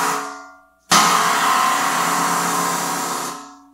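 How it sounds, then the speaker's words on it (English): A ringing cymbal tail fades, then a sharp snare drum stick strike on a cymbal bursts into a bright, washy shimmer that sustains for a few seconds before cutting off. "So what does a snare drum stick sound like on this cymbal?"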